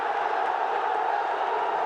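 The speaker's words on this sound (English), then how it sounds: "A big roar in the crowd." At a cricket match, a stadium crowd lets out a sustained roar, a broad, even swell of massed voices holding steady for a couple of seconds.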